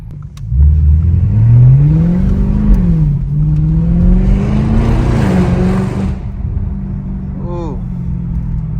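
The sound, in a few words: straight-piped Audi S7 engine downshifting and revving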